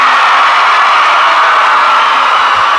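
A youth camp audience at a morning panel session breaks into loud, sustained applause, a thick continuous roar of clapping with no gaps.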